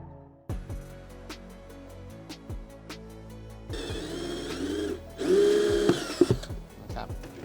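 A power drill bores holes low in the side of a smart waste bin, in two loud whirring bursts with a steady hum and clicking in between.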